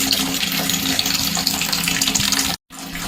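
Tap water runs steadily and loudly for a bath at home, a constant gushing hiss that cuts out briefly near the end and then resumes.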